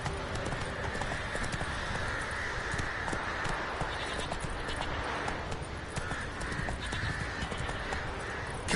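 Roach the horse galloping across Skellige in The Witcher 3, a continuous rapid drum of hoofbeats with snorting and whinnying mixed in, steady and close for the whole stretch.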